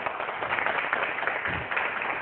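A studio audience applauds a team on a debate show, a dense, steady wash of clapping from many hands, fairly loud and unbroken for a couple of seconds.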